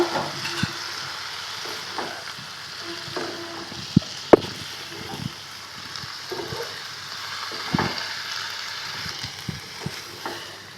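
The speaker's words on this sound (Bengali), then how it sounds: "এবারে এর ভিতরে ভেজে রাখা মাছগুলো দিয়ে দেব শাক এবং মাছ একসাথে দিয়ে নাড়িয়ে নেব" Pumpkin greens and fried fish are stirred together in a pan over a soft low sizzle, with scattered scrapes and sharp clinks of the spatula against the pan, close and fairly quiet, no voices.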